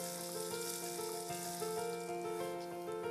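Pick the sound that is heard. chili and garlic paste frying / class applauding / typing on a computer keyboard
chili and garlic paste frying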